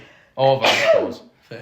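A single loud, close sneeze bursts out in the middle of casual conversation, with a person talking just before and a short word right after.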